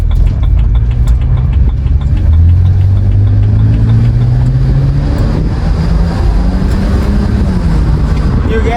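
A BMW 330i engine drones loudly while driving, its pitch rising steadily under acceleration and then settling, with road noise throughout and someone talking over it.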